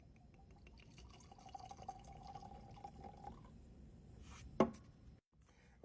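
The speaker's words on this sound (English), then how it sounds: "We're going to pour this up" Gentleman Jack whiskey is poured into a glass, a faint thin liquid trickle followed by a single sharp clink near the end, quiet and without talk.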